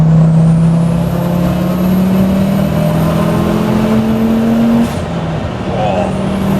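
A 510 bhp turbocharged five-cylinder Audi S2 Cabriolet engine revs loudly and steadily, its pitch climbing in a long pull before easing off, up close and without talk.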